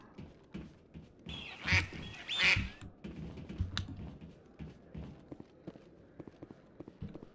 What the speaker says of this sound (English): more genteel quack